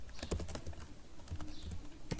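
Quick close keystrokes on a computer keyboard as code is typed, in short irregular bursts of clicks with no talking.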